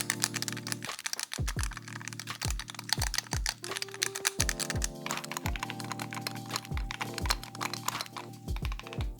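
Keystrokes on a Keychron Q0 Max, a minimal aluminium-cased mechanical numpad, sound as a close, irregular series of sharp clacks over a faint steady hum, with no talking.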